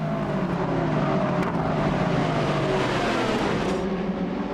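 Porsche race cars at the 2014 6 Hours of Sao Paulo endurance race, a loud continuous engine roar with shifting pitch as cars drone past.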